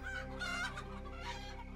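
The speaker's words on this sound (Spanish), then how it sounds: "Despiertan las gallinas y los pollos. Buscan la protección del gallo" Farmyard chickens cluck steadily while a rooster crows over them, a short, close sound effect for a Spanish-language audiobook.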